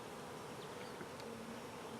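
Honeybees fan at the entrance of a newly installed hive, a dense, continuous buzzing drone heard close and steady with no break.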